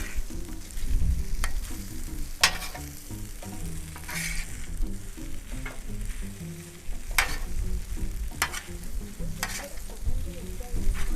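Shrimp fried rice with vegetables frying in a pan, a steady close sizzle broken by scraping stir strokes and sharp clinks of a utensil on the pan, with low background rumble and no talking.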